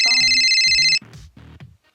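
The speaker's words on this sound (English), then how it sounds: "Yeah, that has to be my phone." A mobile phone ringtone plays loud and close for about a second, a bright repeating electronic tone, then cuts off as short spoken fragments follow.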